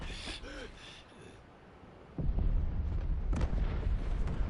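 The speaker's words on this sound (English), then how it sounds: "Explosions?" Explosions in the video game Final Fantasy XVI: after a quieter stretch with a voice, a loud, deep blast bursts in and rolls on as a sustained heavy rumble.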